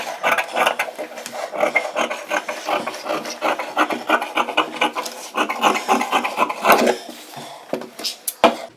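Scissors cut through golden cloth for a blouse in a steady series of close, crisp snipping and rasping strokes, with no talk.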